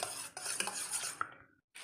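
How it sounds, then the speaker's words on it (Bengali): Whisked, salted eggs scrambled in oil for a coloured capsicum egg bhurji: close spatula scraping and clinks against the pan with a light sizzle, ending in a brief silence. "প্রথমে ডিমগুলোর ভুজিয়া বানিয়ে নিলাম"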